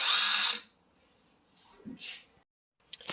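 A DeWalt DCF901 12V compact half-inch impact wrench runs in a short high-pitched whir that stops abruptly, followed by a few softer variable-speed trigger blips and a quick final burst.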